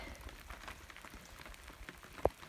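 Steady rain falls over a farm in central Portugal, a soft continuous patter of drops on surfaces with a single sharper drip standing out near the end, no voices.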